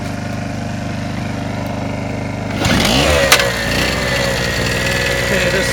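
A Harbor Freight gas generator drones at a steady idle close by, then its tone shifts and roughens midway as the engine note changes, with a brief knock before it settles back to an even run.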